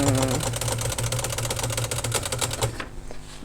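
Princess 300 typewriter with its carriage running past an unstopped margin, a fast mechanical rattle and buzz of ratcheting clicks lasting about three seconds before ending in a few softer clunks, close and alone.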